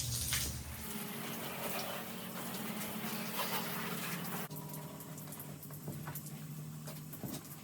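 Water runs and splashes steadily while a 1971 13-foot Boston Whaler boat is scrubbed down with dish soap and a green scrubbing pad, a continuous close wash of liquid and scouring.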